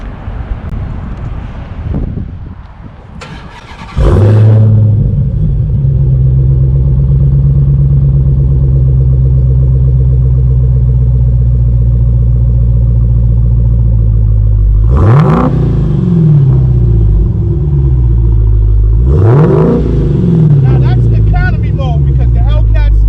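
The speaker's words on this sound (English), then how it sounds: "Let's hear what a stock Redeye sounds like." A stock Dodge Durango SRT Redeye engine, heard up close with wind buffeting at first. It settles into a loud, deep idle rumble, then gives two sharp revs that swell and fall back.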